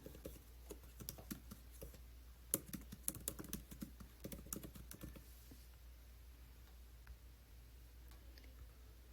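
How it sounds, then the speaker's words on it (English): Fingers typing an email address on a computer keyboard: a quick irregular run of faint clicks for roughly five seconds, then quiet with only a low hum. "And then type in the email address."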